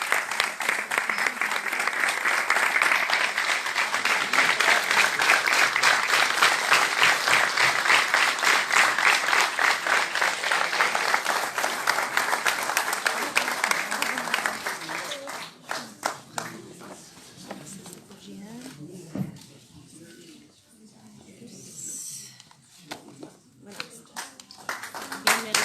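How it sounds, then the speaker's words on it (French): An audience at a university excellence ceremony gives an honoree loud, sustained applause that fills the hall for about fifteen seconds, then fades to scattered claps under a speaking voice. "On l'applaudit très très très fort."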